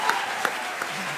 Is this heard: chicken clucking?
no